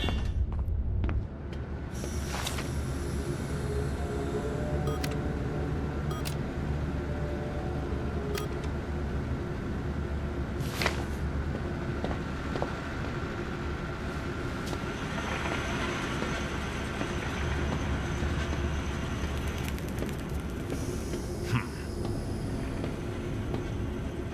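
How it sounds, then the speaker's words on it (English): In the Zoochosis horror game, a gadget trolley is lowered by lever onto a rail, giving a continuous mechanical rumble with scattered metallic clanks and squeaks over a constant machinery drone. "Now activate the lever to lower the gadget trolley."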